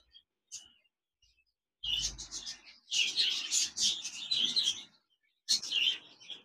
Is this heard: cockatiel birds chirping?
yes